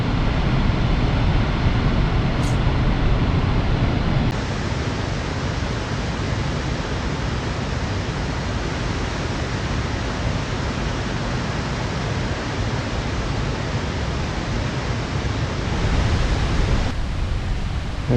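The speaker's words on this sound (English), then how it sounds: "It's the largest waterfall, I believe, in Michigan" Tahquamenon Falls, Michigan's largest waterfall, roaring as a steady, dense wash of rushing water, loud and continuous for the whole stretch with no voices.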